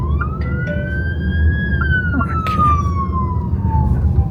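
An ambulance siren sweeps past in traffic at moderate distance, its rising and falling wail carried over the steady hum of a Zeekr 7X SUV cabin and road noise, with brief clicks and a few faint voices.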